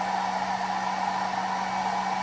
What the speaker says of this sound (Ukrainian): 655 Вт своїх віддає на фен без проблем.